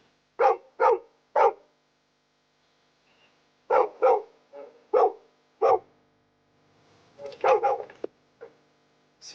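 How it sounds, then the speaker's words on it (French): A dog named Mata barks in sharp bursts against a quiet background. Three quick barks come first, then after a pause a run of spaced barks, and the clip ends with softer yips and whimpers. "Sais-tu pourquoi Mata aboie?"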